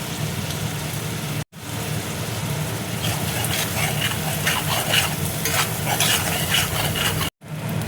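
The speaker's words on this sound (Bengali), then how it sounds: "মশলাটা দেখো ভালো করে কষিয়ে নেব।" Turmeric, cumin and coriander powder stirred and fried in a pan for chanar kaliya, a steady close sizzle with scraping spatula strokes, briefly cut off near the start and end, with no talking.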